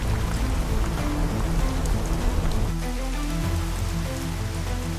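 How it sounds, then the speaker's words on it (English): Heavy rain pours steadily outdoors during a camping and fishing trip, a dense, continuous hiss of drops drumming on surfaces with no gaps, loud and close throughout. "stepping into the relentless downpour"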